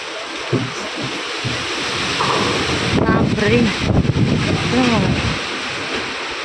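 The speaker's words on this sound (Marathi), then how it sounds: "हवा कसले डेंजर सुटले" Strong gusting wind before a monsoon-type storm, rushing through trees outdoors as a steady, loud broadband roar across the whole clip, with close voices talking over it in the middle.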